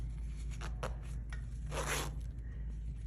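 An invisible zipper on fabric is handled during sewing, giving several short close zips and a longer scraping pull, quiet against a low steady background hum.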